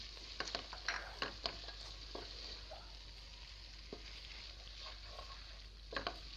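Keema cooked with bitter gourd sizzles quietly in a pan as capsicum and fresh coriander are stirred in, with a low steady fry broken by several sharp scraping clicks of a spoon against the pan.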